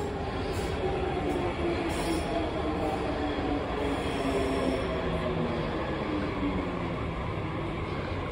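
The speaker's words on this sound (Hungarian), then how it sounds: "közben pedig érkezik a metró" A Budapest metro train arrives at a station, a constant loud rumble of wheels and motors filling the underground platform, with faint squealing tones running throughout.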